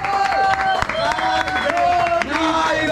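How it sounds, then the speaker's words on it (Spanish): Crowd at a street freestyle rap battle final in a public plaza cheers and shouts for a performer named Nive, a dense continuous roar of voices with some clapping, close and loud throughout. "quiero un aplauso ahí para Nive"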